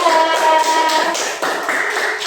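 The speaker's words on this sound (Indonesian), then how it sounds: "beri tepuk tangan dulu yang meriah untuk kelompok 2" Group 2 gets applause in a classroom as clapping starts up, busy and fairly close, with a few scattered taps and some tonal background noise mixed in.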